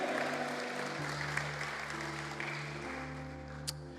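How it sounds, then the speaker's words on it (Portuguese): A church congregation claps loudly for the Lord during a Portuguese-language sermon, with steady massed applause over sustained organ or keyboard chords and a brief sharp accent near the end. "Quem pode dizer amém e aplaudir bem forte ao Senhor?"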